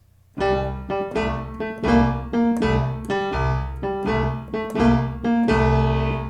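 Blues piano chords played in a steady rhythmic pattern, struck repeatedly with a bass line underneath, close and clear with no voices.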